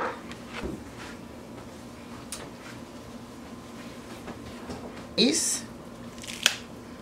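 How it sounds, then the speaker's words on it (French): A knife cuts corn and carrot for homemade chicken soup, quiet scattered chops and scrapes over a low kitchen hum, with a louder clatter near the end. "je vais juste essayer de couper le maïs et puis le carotte"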